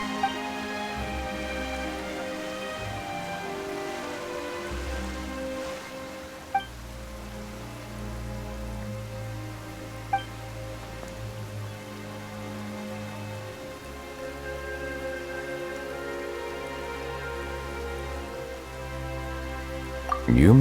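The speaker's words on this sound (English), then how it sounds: "Why is it raining all of a sudden?" Steady rain patters in the Genshin Impact video game's Fontaine Archon Quest beneath a musical score, with a few sharp drip-like clicks standing out, and a louder burst right at the end.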